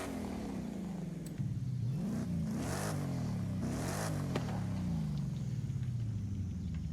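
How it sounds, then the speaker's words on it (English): Ford Raptor in Forza Horizon 5 revving its exhaust, a deep engine rumble rising and falling through several throttle blips, then settling into a steady drone. "let's see what the exhaust sounds like on this Ford Raptor."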